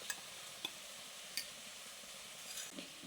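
Chicken frying in a pan over high heat for Chicken Mumtaz makes a faint, steady sizzle, broken by a few light metallic clinks from stirring.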